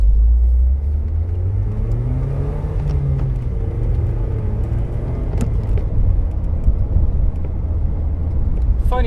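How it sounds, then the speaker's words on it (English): A 1999 Mercedes SLK 200 drives with the roof down, its engine rumbling loud and close as it accelerates through rising and falling revs over steady road and wind noise. "I'm gonna have a little drive with the roof down"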